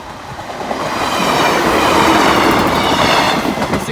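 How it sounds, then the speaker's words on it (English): Freight train with a few flat wagons rolls past a level crossing, a steady close rumble of wheels with faint clickety-clack that swells and holds throughout. "Here's the train with a few flats."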